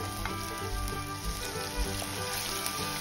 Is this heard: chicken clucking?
no